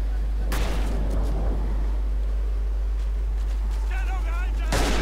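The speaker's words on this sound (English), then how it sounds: "watch out for those fucking mortars" Mortar rounds land in the World War I shooter game Verdun, heavy booming blasts at the start and end over a constant low rumble of battle noise, with no speech.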